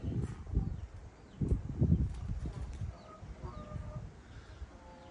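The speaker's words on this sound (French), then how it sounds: "Notre coq, notre grand coq qui est là." A big rooster moves among hens, giving several close, bursty clucks and low calls in the first two seconds, then quieter fowl sounds and faint chirps from other birds.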